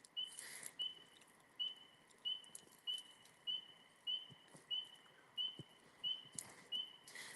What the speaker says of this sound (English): I don't know what bird that is.